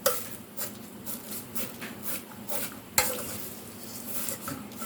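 Vermicelli roasts in a pan for a sweet dish while a spoon stirs and mashes it, giving continuous scraping and soft sizzling with one sharper knock against the pan midway; no voices.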